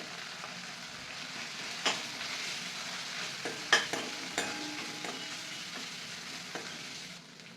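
Green chillies and turmeric fry in hot oil for a black urad dal amti, a soft steady sizzle broken by a few sharp clinks and scrapes of stirring, fading near the end.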